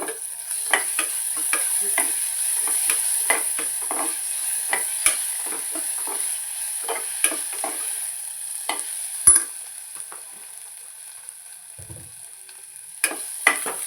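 Garlic paste sizzles in a pan for a sprouted-bean sambar while a spoon stirs it, giving a steady faint fry with repeated scraping clicks and taps throughout.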